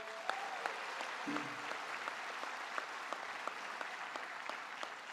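Steady, dense applause from a large crowd at a political event honoring state senators and city council members; the clapping is fairly distant and even, with occasional sharper individual claps.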